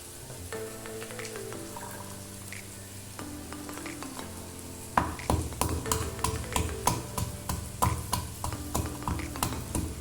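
Onions sauté in a pan for an ash gourd gravy, first as a soft sizzle, then with a quick, regular run of spoon scrapes and clatters as they are stirred repeatedly, close up.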